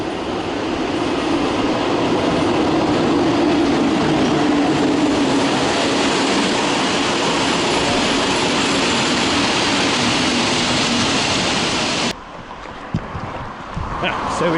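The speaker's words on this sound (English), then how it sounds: "This is actually not the train we're waiting for, it's coming in on platform 3" A train in Hungary rumbles in alongside platform 3, steady rolling and wheel noise filling most of the clip before cutting off abruptly near the end.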